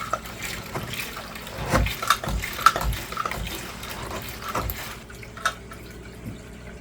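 A squeeze-bulb aquarium gravel cleaner siphons dirty tank water through a small filter and tube into a bucket, giving soft irregular gurgles, trickles and drips up close at low volume.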